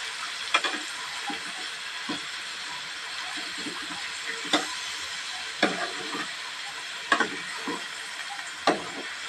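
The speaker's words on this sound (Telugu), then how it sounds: "పచ్చి చేపలు ఇప్పుడైతే బాగా కలుపుకుందాం." Raw fish gets stirred in a hot pan, a soft continuous sizzle broken by sharp intermittent scrapes and clacks of the spoon against the pan every second or so, close and fairly quiet.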